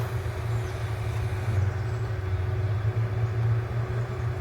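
Low rumbling engine noise of a vehicle driving by a campsite, steady and fairly close throughout, with no voices.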